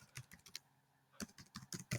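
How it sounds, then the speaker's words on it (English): Quick bursts of keystrokes on a computer keyboard, a cluster of taps, a brief pause, then another run of sharper clicks, close and crisp in a quiet room. "we can type number 1 and the exclamation mark, shift and 1"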